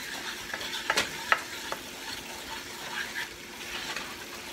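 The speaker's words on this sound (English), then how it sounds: "Cook this flour a little bit to get that floury taste out of it." A flour roux cooks in a pan for smothered potatoes, a quiet sizzle with soft scraping stirs and a few light clicks, close and faint with no talk.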